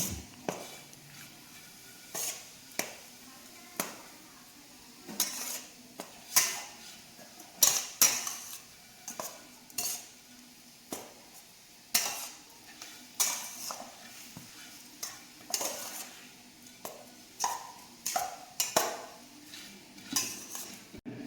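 Puttu mixture being mixed into puttu flour in a bowl, heard as a steady run of irregular clinks and scrapes of a utensil against the bowl, close and fairly crisp, with no talking.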